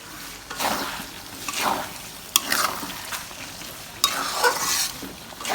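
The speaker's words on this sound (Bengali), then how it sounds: "পেঁয়াজটা ভেজে দিচ্ছি।" Onion frying with cumin and spices in a pan, a spoon scraping and stirring in slow repeated sweeps, with a soft sizzle beneath and a couple of sharp clinks against the pan.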